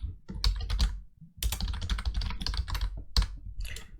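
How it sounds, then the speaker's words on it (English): Rapid clattering keystrokes on a computer keyboard while Python code is being written, close and fairly loud, in bursts with a short pause near the middle. "so I will just type something else"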